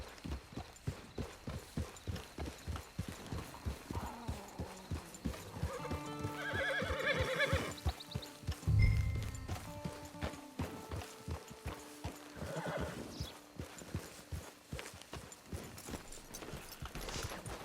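Hooves clip-clop at a steady pace throughout in Red Dead Redemption 2 Online, and midway a horse lets out a loud whinny, with a snort following a little later.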